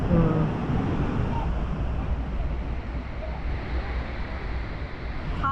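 A steady, heavy roar of falling water from Victoria Falls fills the clip, broadband and constant, with wind buffeting the microphone.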